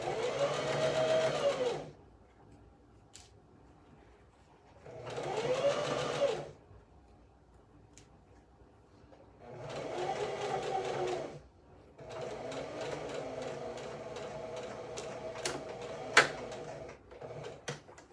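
A sewing machine stitches ruffles onto a lined dress in quick mechanical bursts, running in three short runs separated by pauses and then one longer steady run, close by and alone.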